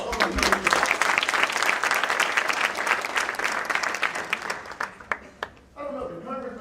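An audience at a pre-law event applauds loudly and densely for several seconds, the clapping thinning out near the end before a voice starts speaking.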